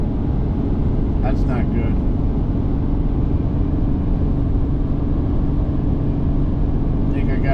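A vehicle engine drones low and steady under strain after a downshift on an uphill climb, a continuous loud rumble filling the whole stretch while someone speaks briefly over it.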